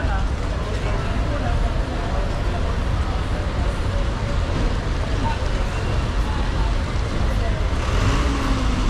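Road traffic on a Nairobi street after the rains, with a heavy truck rumbling past amid continuous vehicle noise, while a voice talks over it.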